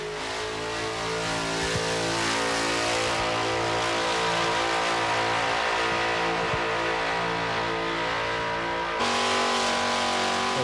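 A small car powered by a 289 Windsor V8 does a burnout run at a Summernats car show, its engine roaring loudly and continuously at high revs, with a brief shift in tone near the end.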